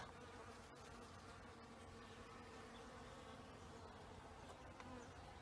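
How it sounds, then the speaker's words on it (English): Bees buzz steadily around large Trichocereus cactus flowers, a dense continuous hum of several insects close by with no voices. "the bees have just started arriving"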